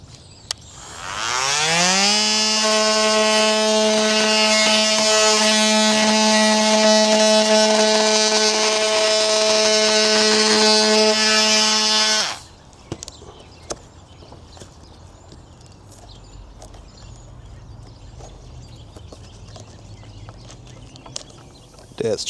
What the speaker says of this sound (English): Now we're gonna take our Monte tool and clean some of this out, about 1/4 inch. Clean it out down to the metal.